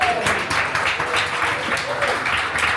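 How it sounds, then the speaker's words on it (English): Wedding guests applaud for a toast-giver at a reception, steady clapping from a crowd that fills the room, with voices murmuring underneath. "All right, round of applause for Stephanie now."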